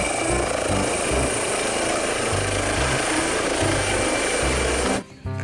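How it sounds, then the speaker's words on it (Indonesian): A red toy helicopter gives off a continuous buzzing, rattling mechanical whir, loud and close, with a regular pulsing beat underneath, then cuts off abruptly near the end. "Lihat, ini helikopter warna merah."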